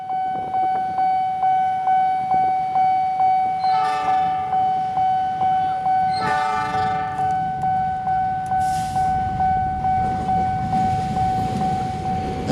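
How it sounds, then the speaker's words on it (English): Locomotives roll past on railway tracks near a station crossing, with a steady rumble, a bright repeating ding of a crossing bell throughout, and two brief horn-like tonal blasts, heard close with no talk. "that's 2 more locomotives being sent somewhere"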